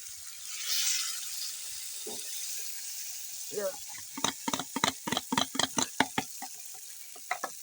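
Rice and egg are stirred in a pot over a village cooking fire, giving a rhythmic run of scraping, slapping strokes up close, with a faint sizzle underneath and a voice briefly heard.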